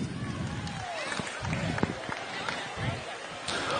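A crowd applauds at a BMX national race, scattered clapping and cheering spread through the stands under an announcer's voice over the loudspeaker, moderate and continuous.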